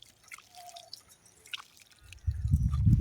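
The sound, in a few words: washing tomatoes with well water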